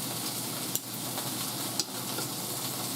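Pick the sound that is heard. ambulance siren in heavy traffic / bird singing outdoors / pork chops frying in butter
pork chops frying in butter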